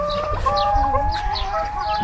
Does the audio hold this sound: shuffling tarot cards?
no